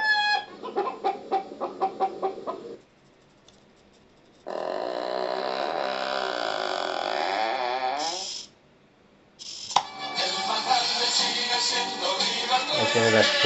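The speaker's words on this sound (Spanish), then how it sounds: "Ahí se está enojando un poco la gallina." A hen clucks insistently in agitated bursts, close and loud, with rapid repeated squawks separated by short quiet gaps.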